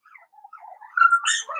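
Puppies whine and yap in short high squeaks, close and fairly quiet at first, then growing louder and busier toward the end.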